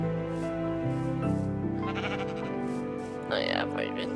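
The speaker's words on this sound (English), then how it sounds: "There's a sheep." Sheep bleating in modded Minecraft gameplay, several clear game bleats over steady background music with a voice talking throughout.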